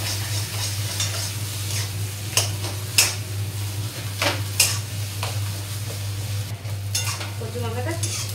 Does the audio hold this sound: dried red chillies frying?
yes